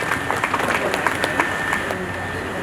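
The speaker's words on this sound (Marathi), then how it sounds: "मंडळी, आपल्या टाळ्या जर नाही पडले ना तर कार्यक्रमाला कसं जरा उत्साह वाटत नाही." Audience applause at a school memorial ceremony unveiling a bust, dense continuous clapping from a crowd filling the hall, with a voice faintly under it.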